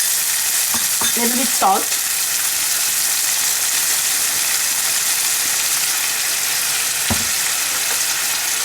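Onion frying with a ginger, cumin powder and dhania powder spice mix, a loud steady sizzle with stirring scrapes; a brief spoken remark comes early, then frying continues alone.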